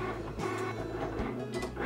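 A Cricut cutting machine makes a second pass over vinyl, its motor whirring steadily with short mechanical shifts as the carriage moves, close and moderately loud with no talking.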